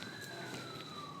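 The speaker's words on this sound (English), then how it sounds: "some outside sound is coming, car siren" A car siren outside carries on steadily throughout, a wailing, slowly falling tone that stays faint and distant.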